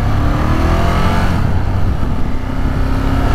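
A Ducati Monster 1200 motorcycle engine revs loud and close, a steady rumbling drone that holds throughout with slight swells, no voices.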